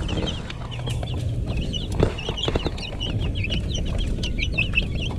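Shamo gamecocks cluck steadily in a backyard pen, with repeated short clucks and chirps from several birds layered over low ambient noise throughout.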